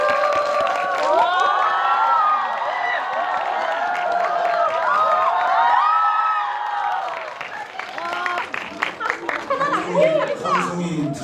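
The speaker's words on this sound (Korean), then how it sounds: "박수로 맞이해 주시면 깜짝 게스트께서 입장하실 것 같습니다." Crowd of moviegoers at a Korean film Q&A event for Zombie Daughter erupts in sustained cheering, screaming and applause as a surprise guest walks on, loud and steady before easing into scattered whoops and chatter.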